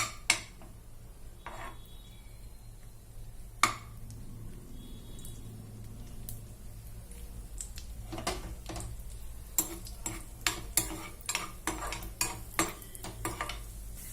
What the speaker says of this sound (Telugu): కాజు కిస్మిస్ని దోరగా వేయించుకోవాలి